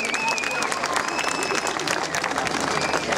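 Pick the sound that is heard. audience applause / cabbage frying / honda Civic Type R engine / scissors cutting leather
audience applause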